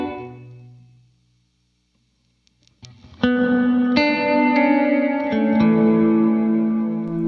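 An electric guitar fades out, falls silent, then rings out fresh notes and chords through a large reverb with pre-delay, each attack clear before a long shimmering wash sustains behind it; no talking.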